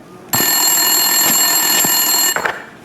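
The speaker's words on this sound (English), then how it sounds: "Winterson's phone was ringing." A desk telephone in the game Max Payne 2 rings with one long, loud, steady electronic trill, starting abruptly and cutting off near the end, with no talk.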